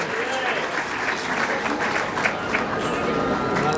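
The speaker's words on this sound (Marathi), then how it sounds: "आपल्या टाळ्या वाजत राहिल्या पाहिजेत" An audience at a Guru Purnima felicitation ceremony claps in sustained, dense applause, with a voice speaking over the clapping the whole time.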